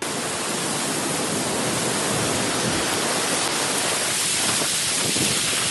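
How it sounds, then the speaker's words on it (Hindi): Heavy rain pours down with strong gusting wind, a dense, steady hiss of downpour that stays loud and unbroken throughout. "तेज हवाओं के साथ बारिश की मोटी मोटी बूंदें गिरने लगीं"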